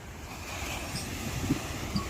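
Typhoon ocean waves crash against a beach resort seawall propped with sandbags, a low, continuous rumbling wash with wind noise and a couple of heavier surges near the end.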